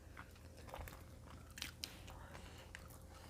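Crisp bites and chewing on crunchy food at close range, a couple of sharp crunches standing out over steady mouth noise and faint murmuring.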